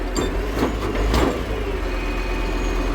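A noisy, damaged truck's engine runs steadily and close, a constant low rumble with a couple of brief louder bursts early on, no talking over it.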